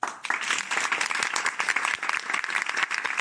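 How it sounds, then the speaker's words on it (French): Recorded applause sound effect: a dense, steady patter of many hands clapping, moderately loud and continuous for a few seconds with no voices over it. "à Podcascience, on a des applaudissements enregistrés"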